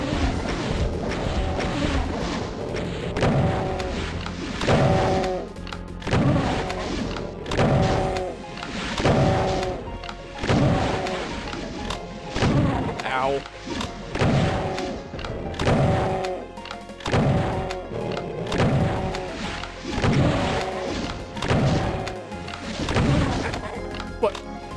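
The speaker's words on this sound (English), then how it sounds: "More rockets, that's even better." Rocket launcher blasts in Doom 2 come in a steady run of heavy, punchy explosions across the whole stretch, loud and dense, with a voice talking over the action.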